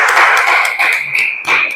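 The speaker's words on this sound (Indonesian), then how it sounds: "Kita beri tepuk tangan untuk kelompok 1." A classroom audience claps for a student group after its presentation, loud close applause with a bright ringing tone that dips briefly and then swells again.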